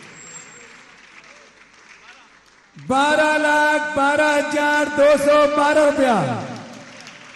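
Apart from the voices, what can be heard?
audience applauding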